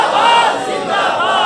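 A large crowd at a religious gathering in Taunsa Sharif chants a slogan in unison, a loud, sustained mass of voices held for over a second.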